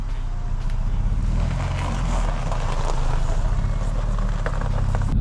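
A BMW 320i E90 with the N46 engine is driven around the block, a steady low engine drone and road rumble heard from inside, loud and constant throughout.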